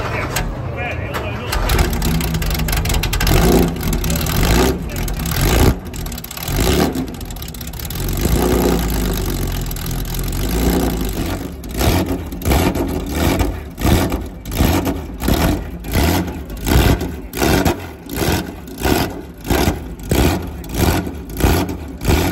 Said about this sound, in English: I'm standing about 6 feet away from this Porsche 911 engine as it revs.